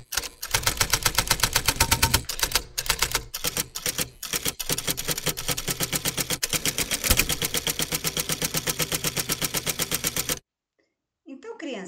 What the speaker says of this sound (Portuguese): o primeiro som que vocês ouviram é o som de uma máquina de escrever